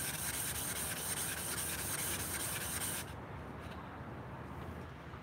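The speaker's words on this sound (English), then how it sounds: "I do believe that we have flattened this stone" A sharpening stone is rubbed flat with steady, close scraping strokes, a continuous gritty rasp that eases slightly partway through.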